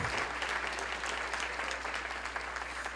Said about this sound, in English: You need to give yourselves another round of applause